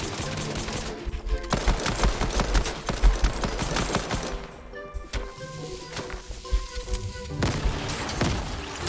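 Heavy gunfire and a booming grenade blast in a Fortnite fight, with bursts of shots, a crashing explosion and shattering debris, dense and loud throughout with a brief lull in the middle.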